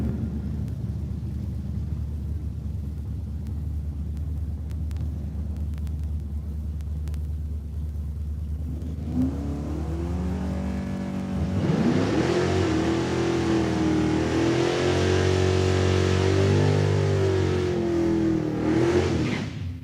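Drag racing cars at Saskatchewan International Raceway, a low rumble at first, then a loud roaring engine rising in pitch as a car accelerates hard down the quarter mile, sustained and fairly close.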